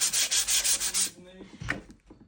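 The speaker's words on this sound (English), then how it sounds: "I just got through sanding it" Fast, even sanding strokes on a painted wooden drawer of an old sewing table for about a second, then they stop, leaving faint clunks and handling noises.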